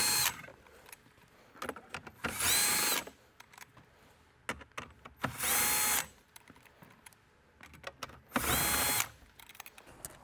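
A power tool whirs in three short bursts, backing out 10mm bolts from the dashboard of a Toyota 86, each spin separated by quieter handling clicks and rustles, close and loud.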